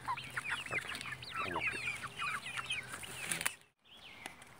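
Several chickens and fowl cluck and chatter together while eating feed, a close, busy flock with overlapping calls that break off briefly near the end.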